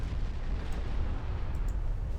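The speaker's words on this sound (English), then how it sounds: "start lobbing high explosive rounds at that battleship" Battleship guns fire shells in the naval video game Ultimate Admiral Dreadnoughts, a rolling low rumble of distant booms with faint bursts layered over it, steady and without talk.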